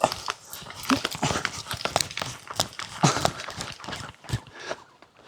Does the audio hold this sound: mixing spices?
no